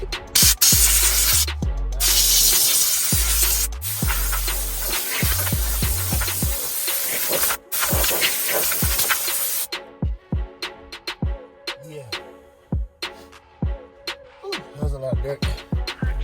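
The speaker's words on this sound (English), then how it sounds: "So what I'm going to do is hit it with some compressed air, get rid of all this dirt real quick." Compressed air blasting dirt off the fuel pump area of a Dodge Hellcat, a loud continuous hiss for about ten seconds that then gives way to scattered clicks and handling noises.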